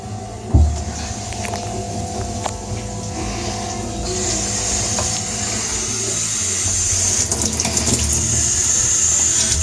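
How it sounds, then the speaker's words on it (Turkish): Water pours steadily out of a home heating radiator being flushed and cleaned, a continuous splashing rush that grows slightly louder and fuller toward the end. "Evet arkadaşlar peteğin içerisinden akacak olan suyu görüyorsunuz"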